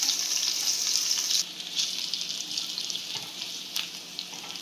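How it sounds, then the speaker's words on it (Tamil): Crushed ginger and garlic sautéing in a pan for an egg soup, a bright steady frying hiss that is louder at first, then settles into a softer sizzle with light stirring. "இதெல்லாம் நல்லா வதக்கிடலாம் பச்சை வசனை போகிற வரைக்கும் நல்லா வதக்கிட்டு"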